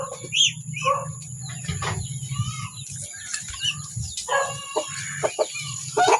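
Chickens cluck and ducks quack close by as they wait at a door to be fed, a restless mix of bird calls over a low hum.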